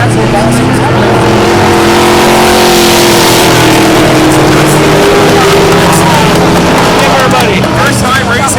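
Race cars roar around a tacky dirt track, engines droning loudly and continuously with rising and falling revs as they pass, while an announcer talks over the din.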